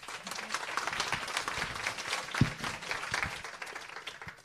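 Audience applause at a startup founder event, a steady dense patter of many hands clapping at moderate level with no voices over it.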